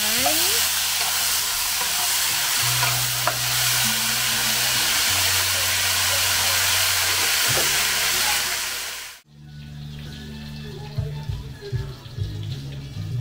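Steady loud hiss and sizzle of oil palm mushrooms frying in a pan, cutting to quieter crackling with some clatter near the end.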